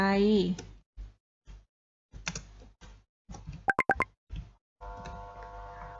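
Computer keyboard typing while a name is entered into a certificate design in Canva: sparse soft key taps, then a quick burst of sharp clicks, interleaved with a voice talking.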